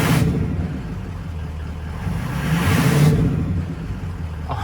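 A 6.0L Powerstroke diesel engine fitted with a new turbo runs close by, rising in a smooth rev and easing off again, with a steady rumbling drone throughout.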